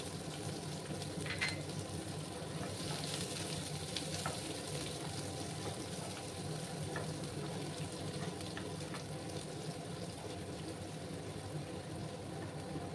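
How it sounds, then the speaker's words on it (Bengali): Chopped onions sizzle in hot oil in a home kitchen pan while a Bengali squash and potato curry is being cooked. The frying is a steady, soft hiss with occasional faint crackles, heard alone. "পেঁয়াজগুলোকে আমি একটু লাল লাল করে ভেজে নেব।"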